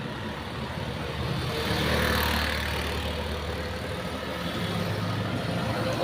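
Steady engine rumble of cars moving along a clean road on an afternoon, continuous and moderately near, with no voices.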